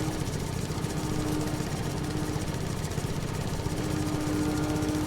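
A lawn mower engine in Farming Simulator 25 runs continuously with a dense, even, buzzing rumble, steady and close, with no talking.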